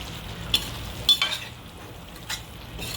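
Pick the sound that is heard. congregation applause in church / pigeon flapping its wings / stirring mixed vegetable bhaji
stirring mixed vegetable bhaji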